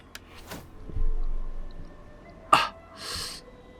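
A single close sneeze bursts out after a quick inhaling breath, followed by a soft breathy exhale.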